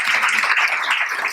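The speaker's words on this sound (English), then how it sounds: "Can we get one last round of applause?" Audience applause closing a tech panel at an IT tech and cocktails event, a steady dense wash of clapping filling the short moment without any talk.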